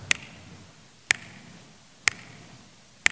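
Master pulse from the Mini Metro game music, heard as four sharp, evenly spaced clicks about one second apart over a faint low background hum.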